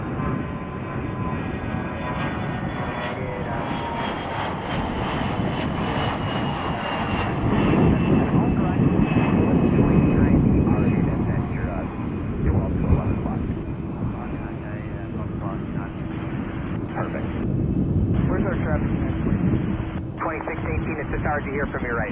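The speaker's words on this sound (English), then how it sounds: "534 from San Francisco. 787 Dreamliner. Making a right turn" A Boeing 787 Dreamliner arriving from San Francisco taxis and turns toward the terminal at Chicago O'Hare, its jet engines producing a loud continuous roar that swells slightly midway, with wind noise and radio-style talk over it.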